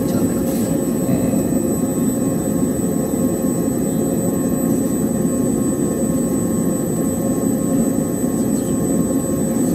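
Steady loud jet-engine drone from a cockpit while an airliner lands on the runway ahead, a continuous low roar with a thin high whine that holds level the whole time, no talking.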